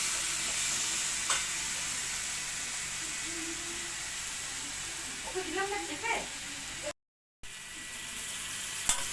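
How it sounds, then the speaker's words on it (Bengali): Bengali-style spice paste with cumin powder is sautéed in a pan for a kochu pata recipe, giving a faint, steady frying hiss with occasional light stirring clinks. "এবারে মশলাটাকে ভালোভাবে কষিয়ে নিচ্ছি।"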